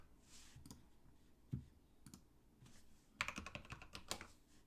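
Computer keyboard typing during a card game session, with scattered soft key presses early and then bursts of rapid, sharp clicks; no talking.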